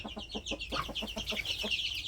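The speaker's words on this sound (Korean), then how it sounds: "이렇게 우리 병아리들과 우리 닭들이 봄날 따뜻한 햇볕을 맞으면서 이렇게 안락한 곳에서 잘 자라고 있는 모습을 보니" Chickens and chicks on a farm cluck and peep busily up close in a sunny spring coop, a dense, continuous chatter of overlapping calls with no speech.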